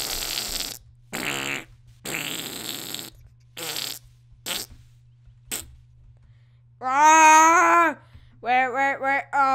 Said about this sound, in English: you wanna see my rainbow farts?